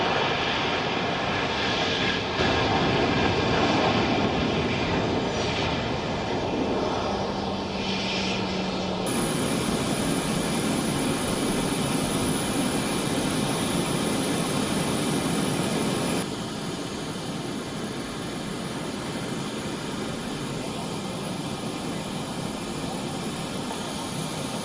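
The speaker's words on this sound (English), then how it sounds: "She came on board a U.S. military plane." A Boeing C-40C U.S. Air Force military jet produces a loud, steady jet engine roar that continues throughout, easing slightly in the later part.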